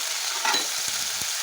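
Tomato and onion paste being stirred and fried in a pan for an egg, eggplant and potato dish: a steady close sizzle with scraping stir strokes, and no voices.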